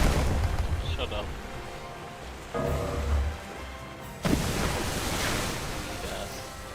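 Ship cannons in Uncharted Waters Online boom over a steady wash of ocean waves and wind, with two distinct heavy blasts a couple of seconds apart standing out against the surf.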